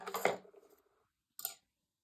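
Scissors cut off yarn on a knitted gnome. One close, crisp snip is followed by a second shorter snip a moment later, with silence around them.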